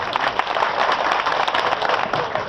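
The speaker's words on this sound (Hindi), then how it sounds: "जोरदार तालियों से इस्तकबाल करें।" A gathering at a scrap dealers' association meeting applauds, a dense, steady burst of many hands clapping, fairly loud and close.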